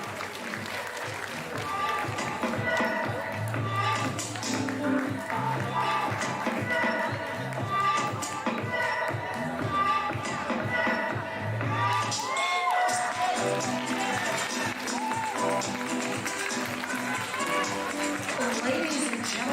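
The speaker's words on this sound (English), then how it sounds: "a round of applause." Applause and cheering from a pageant audience fill the room steadily and fairly loudly, with a voice speaking over the crowd.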